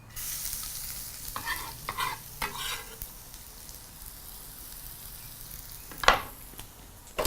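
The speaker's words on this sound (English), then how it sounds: "Using a spoon, proceed to mix everything together and proceed to fry until you've got a nice beautiful golden color" Garlic and ginger sizzle in hot cooking oil for a Malabari prawn curry while a spoon stirs them, a steady close frying hiss broken by scraping strokes and a sharp clink near the end.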